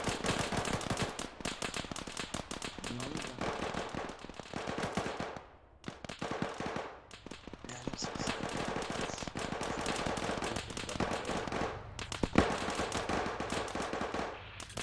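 Friendly gunfire in Arma 3 rattles as dense machine-gun bursts, some close and some farther off, with short pauses between volleys and one sharp crack near the end.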